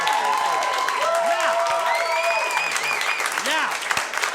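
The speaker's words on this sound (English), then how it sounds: "Round of applause." A studio audience breaks into loud, sustained applause with some cheering for the magician Cosentino on a live talk show, steady throughout while voices and whoops rise over the clapping.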